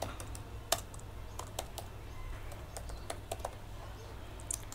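Fingers type on a computer keyboard in quick, irregular bursts of close keystrokes, with no speech.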